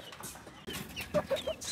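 Native free-range chickens, hens and chicks, cluck while eating homemade feed: soft, short clucks and chirps come close by in quick succession over light background noise.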